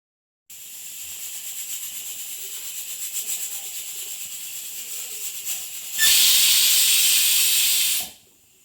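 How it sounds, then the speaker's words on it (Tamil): A pressure cooker cooking mutton hisses steadily as steam escapes, then bursts into a louder, sharper whistle for about two seconds before cutting off abruptly. "இது வந்து ஒரு மூணு விசில் வரட்டும் அப்போ தான் அந்த மட்டன் வேகும்"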